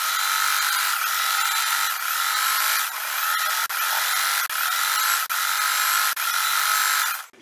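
Steady, loud whirring motor of a sewing machine running a straight stitch along a folded hem on an upcycled man's shirt, continuous for several seconds with a few brief pauses and no talking.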